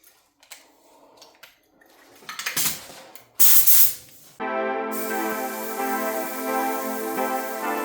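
Short hissing bursts of a Rust-Oleum metallic pearl aerosol spray paint can build up, then a long steady spray hisses continuously at close range.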